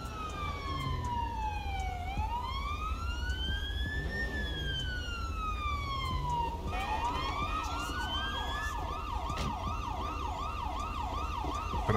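An ambulance siren wails in Grand Theft Auto V on a patrol call: a long rising and falling tone sweeps steadily, then switches to a faster, repeating yelp, loud and continuous, with no talk over it.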